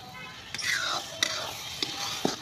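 Masala sizzles softly in oil in a pan while a spoon stirs and scrapes it, with a few sharp clinks of utensil against metal over a steady quiet frying hiss.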